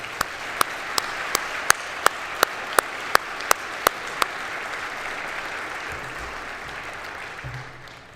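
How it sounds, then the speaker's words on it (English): Audience gives a big round of applause for Jeff at an athletics complex announcement, a steady wash of many hands with a regular series of sharp clicks over it, fading out near the end. "everybody needs to give Jeff a big round of applause"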